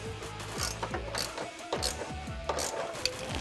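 Ratchet clicking rapidly in repeated bursts while tightening nerf side step bar bolts on a 2021-2022 Ford Bronco 4-door, close and fairly quiet, with brief pauses between strokes.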